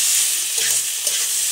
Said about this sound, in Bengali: আমাদের আলু আর মটরশুঁটি সব ভাজা ভাজা হয়ে গেছে